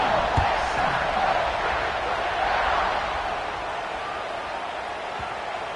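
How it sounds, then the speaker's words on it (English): A football stadium crowd roars in a steady, dense wash of cheering and noise that fades slightly toward the end, with no clear individual voices. "this crowd now ready to get behind them"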